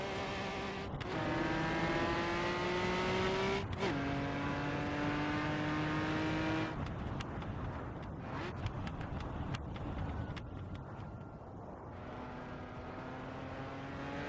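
A 4-speed Jaguar racing car engine in the Assetto Corsa video game at Silverstone's 1975 layout revs high and drops sharply at gear shifts, pitch climbing steadily between changes, loud and continuous throughout.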